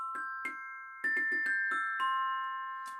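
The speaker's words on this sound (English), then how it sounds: "These are orchestra bells. They sound like this." Bright metallic orchestra bell tones struck one at a time in a short melodic run, each note ringing clearly and sustaining over the next, no voices.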